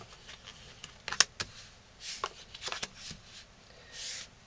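Tarot cards drawn from a deck and laid down one at a time, giving soft papery slaps and slides in a few separate bursts, close and fairly quiet with no talk.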